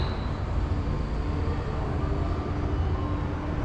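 A steady, heavy low rumble of a steam train, number 926, rolls past without letup, with no voices.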